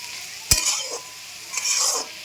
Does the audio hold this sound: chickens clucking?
no